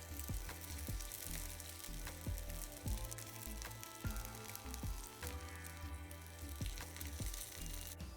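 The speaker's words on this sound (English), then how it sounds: "I'm gonna hold it on the fat cap for about 30 seconds, a minute, which is gonna render some of that fat out" A New York strip steak held fat-cap down in a hot pan, the fat rendering with a steady close sizzle and frying crackle, punctuated by regular low thumps of handling throughout.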